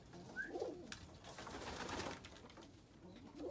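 Pigeons coo softly at close range in a loft of newly acquired birds, with low rolling coos repeating through the clip over a faint background of rustling and ambient noise.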